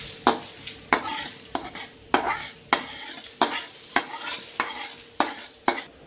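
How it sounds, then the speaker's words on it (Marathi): Byadgi chilies dry-roasting in a pan while being stirred, about a dozen evenly spaced scraping strokes each followed by a brief crackle, close and fairly loud, with no talking. "थोडीशी बेडगी मिरची भाजून घेते त्याच्यात"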